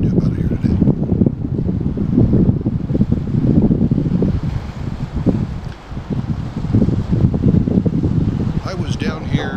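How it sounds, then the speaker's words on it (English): Heavy wind buffets a microphone at the Golden Gate Bridge, loud rumbling gusts rising and falling throughout, with a faint hiss of water or traffic beneath. "Again, apologize if there's wind."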